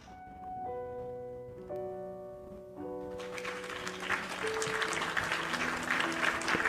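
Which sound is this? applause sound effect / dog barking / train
applause sound effect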